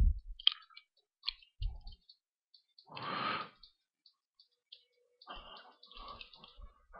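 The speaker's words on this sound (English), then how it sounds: "I'm going to rapid click through here and see if we can see a big one through the rapid clicking" A computer mouse clicks in irregular bursts of sharp, faint clicks scattered over several seconds, broken by a brief soft rushing noise, with no talking.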